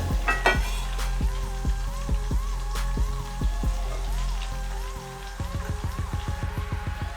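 Chopped tomatoes sizzle steadily in a hot pan while etor is being cooked, with a continuous frying hiss broken by regular ticking crackles and pops; no one talks.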